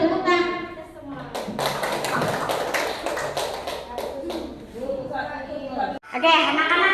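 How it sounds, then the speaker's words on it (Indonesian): A school class claps hands in a classroom, a burst of dense applause lasting a few seconds, with children's voices before and after it. "Beri tepuk tangan."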